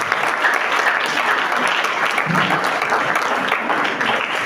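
Congregation in a church applauding and cheering, a thick continuous wash of many hands clapping at a constant loud level throughout.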